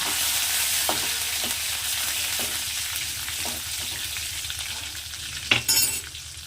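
Dry red chillies and curry leaves frying with browned onions for hotel-style vegetable sambar, a continuous sizzle with light stirring taps and a louder clatter of spoon on pan near the end.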